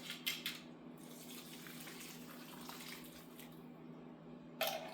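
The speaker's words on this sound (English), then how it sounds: "I'm going to pour this into the other pan." Liquid from a pinto bean pot poured into another pan, a soft steady trickling wash with a couple of clinks at the start and end, close but quiet.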